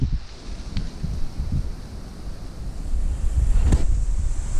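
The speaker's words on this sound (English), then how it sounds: "Oh, sorry about the wind." Heavy wind buffeting the microphone outdoors at a bee yard, a constant low rumble with gusty swells that grow louder toward the end.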